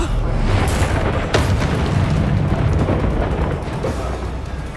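An Expulso spell explosion in Hogwarts Legacy bursts with a deep boom and a crackling blast, followed by rumbling combat noise and a second sharp impact, fairly loud throughout.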